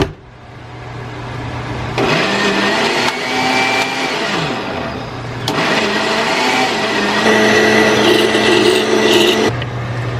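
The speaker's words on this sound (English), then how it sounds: "I'm excited to use my blender for this." A home blender grinds a thick batch of chipotle peppers in adobo sauce, a loud steady whir that strains and shifts pitch as the motor bogs and frees up, with no talking.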